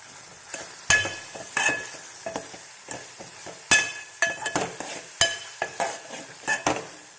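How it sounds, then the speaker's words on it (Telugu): A spoon stirs a crushed paste of cumin, pepper and garlic into tamarind rasam in a pot, making irregular nearby clinks and scrapes with a faint simmering sizzle between strokes. "ఈ ముద్దను ఇందులో వేసేద్దాం ఇప్పుడు కలిపేద్దాము"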